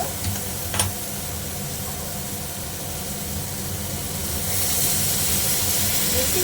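Water poured into a hot pan of softened star fruit for a sweet-sour chutney raises a continuous, moderately loud steam hiss and sizzle that swells toward the end, with a brief clink near the start.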